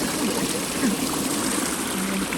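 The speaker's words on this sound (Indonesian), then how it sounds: "Saking dinginnya, minus 10, airnya bunyi." Water trickling beneath ice at minus 10 degrees outside a Japanese boarding house, a steady close gurgling flow with a constant hiss and no pauses.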